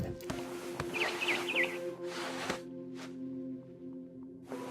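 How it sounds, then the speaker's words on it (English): A barn swallow chirps outside a window in What Remains of Edith Finch, a brief cluster of quick high tweets over a low ambient hum, with soft bursts of rustling noise around it. "Then I heard chirping outside my window. It was a barn swallow going back to her nest."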